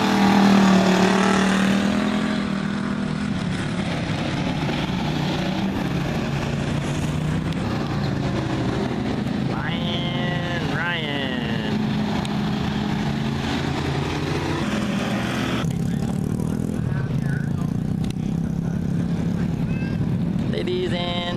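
Pure stock race cars roar off the start of a heat race at Barona: a loud, dense mix of engines revving and accelerating, with one clear rising-and-falling pass partway through and a public-address announcer talking over the din.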